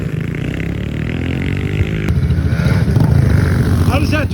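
A 2022 Yamaha 110 pit bike engine revs on a pit bike track, a steady loud buzzing drone that rises in pitch midway, with people talking over it.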